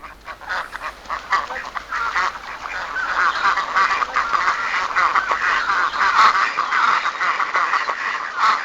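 Ducks quack and honk in a busy, overlapping chorus that stays loud and continuous, with no one talking.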